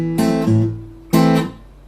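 Short Travis-picked guitar phrase, a few plucked notes over a bass note, repeated twice with ringing sustain.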